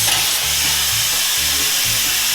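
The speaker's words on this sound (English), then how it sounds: "Again, it cut clear through the grate." A power cutter slices clear through a metal grate with a loud, steady, harsh hiss and grind that holds without a break and sits close by.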